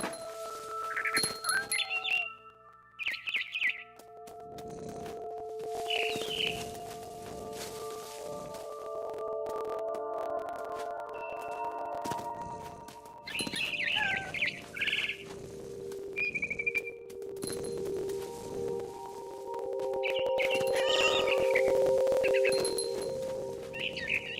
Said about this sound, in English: Then I heard chirping outside my window. It was a barn swallow